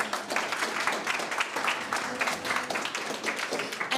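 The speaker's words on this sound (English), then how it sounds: "can we please give a round of applause for all the entrepreneurs" Audience applause at the launch of the YAEI x Absa Youth Entrepreneurship Skills Programme: a dense, steady wash of many hands clapping at moderate volume for the whole stretch.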